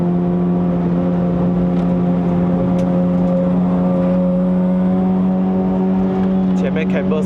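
A Honda City Hatchback 1.5L GN5 track car with heavy front camber and 225 tyres drones steadily from inside the cabin on a mountain climb in Malaysia, its engine tone holding even and rising slightly near the end.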